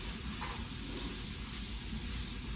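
Meat sizzling steadily in a pan, a continuous dense hiss and crackle filling the whole stretch, close and fairly loud with no talking.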